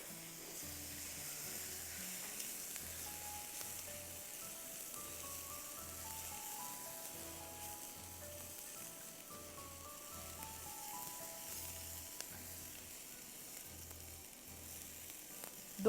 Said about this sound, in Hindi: इसको हम 2 मिनट के लिए भूनेंगे